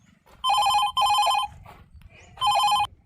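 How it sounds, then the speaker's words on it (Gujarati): A telephone rings in three loud electronic bursts during a Gujarati comedy skit. Two bursts come close together, a short quieter gap follows, then a third burst sounds, with low background noise between them. "કોકનો ફોન આવ્યો છે"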